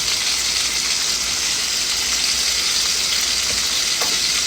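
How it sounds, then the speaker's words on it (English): Pork chops frying in a pan, a dense, loud, continuous hiss and crackle of sizzling fat heard up close and steady throughout, with no speech. "I've got my pork chops cooking too"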